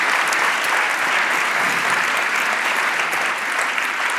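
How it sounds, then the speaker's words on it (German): An audience at a university public lecture on sleep and dreams claps warmly for the speaker coming on stage, a thick, even wash of applause that holds steady throughout. "Bitte kommen Sie auf die Bühne, einen herzlichen Applaus"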